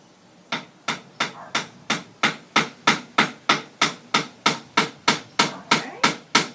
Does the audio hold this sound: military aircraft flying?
no